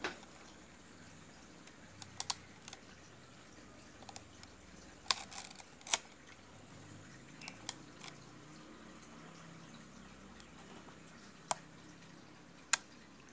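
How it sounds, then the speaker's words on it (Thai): Shutter of a Yashica Electro 35 GS rangefinder camera, tested after repair, firing as several sharp, faint mechanical clicks scattered over a quiet background, with one brief cluster of clicks near the middle. "ลองลั่นชัตเตอร์ครับ"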